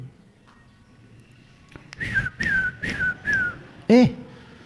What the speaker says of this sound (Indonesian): Burung saya luar biasa suaranya.